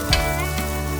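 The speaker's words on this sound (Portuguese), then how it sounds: "Agora adicionamos a linguiça calabresa. Vamos fritar até que estejam bem douradas." Calabresa sausage fries in a pan, with a close, steady sizzle and a couple of brief stirring scrapes.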